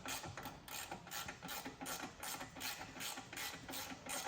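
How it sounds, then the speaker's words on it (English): An ICON G2 ratchet clicks steadily on the front hub of a 2017 Chevy Equinox, a quick regular train of close mechanical ratcheting clicks heard alone and fairly quiet. "But we want to show off our new ratchet"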